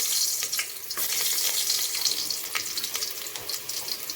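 Garlic fries in oil in a pan, a loud bright hiss with crackles and a few sharp spatters, steady and close, with no voices.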